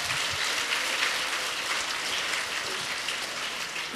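Audience applause at a closing event for a national campaign, dense and steady clapping from a large group that fills the whole stretch evenly without pause.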